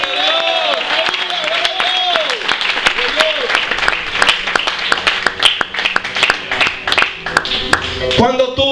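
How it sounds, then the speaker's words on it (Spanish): Church congregation claps loudly and steadily in a sustained round of applause, with a voice calling out over it and a few cheers rising near the end. "Denle un fuerte aplauso al Señor."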